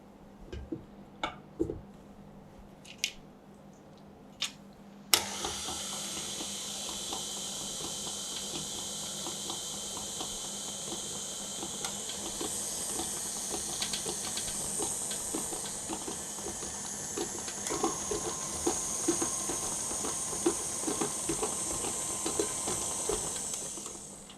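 A stand mixer beats eggless tart dough in its bowl, a steady whirring hiss that starts abruptly after a few faint clicks and runs continuously with a light rattling patter, alone without talk.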